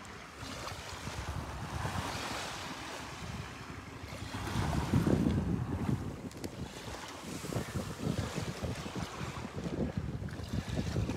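Steady wind gusts across the Sea of Galilee, with lapping waves and rumbling microphone buffeting throughout, swelling briefly midway.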